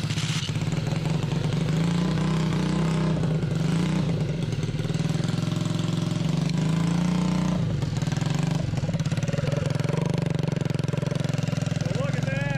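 A Honda Trail 90 motorcycle engine runs unbolted on a workbench after a DIY valve job, with a loud, steady idle and a low, continuous rumble and rattle throughout. Voices talk over the running motor.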